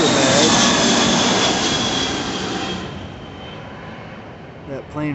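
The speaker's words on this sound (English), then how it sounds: "That plane was obnoxious." A plane flying overhead on a hiking trip, a loud broad roar that slowly fades as it passes, ending with a person starting to talk.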